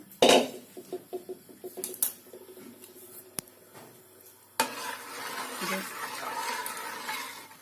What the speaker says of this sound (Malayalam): ഇത് നമ്മൾ തിളയ്ക്കുന്നത് വരെ അതിനെ ഇളക്കിക്കൊണ്ടിരിക്കുക.